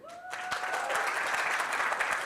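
Applause fills an engineering innovation prize final as the audience claps steadily, a brief tone fading at the start beneath the dense, even clapping.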